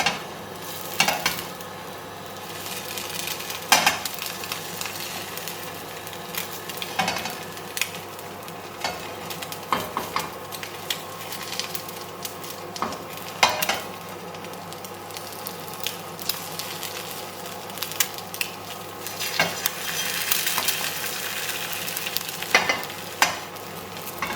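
Food frying and being stirred in a Hexclad hybrid non-stick pan, a steady close sizzle broken by scraping and clinks of a utensil against the pan throughout.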